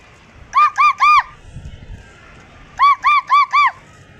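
Two bursts of loud, nasal honking calls from a turkey, three quick calls and then four more after a short pause, with no other sound.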